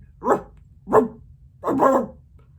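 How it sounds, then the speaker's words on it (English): Dogs barking in the twilight bark from 101 Dalmatians, three distinct bursts of loud, close barking, the last one longer and more layered as several barks overlap. "send out an all-dog alert with the twilight bark"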